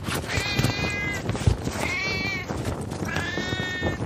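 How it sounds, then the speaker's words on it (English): An inflatable Halloween cat decoration gives three drawn-out electronic meows at a steady rhythm, fairly loud and close, over background noise. "So the inflatable cat apparently can meow too?"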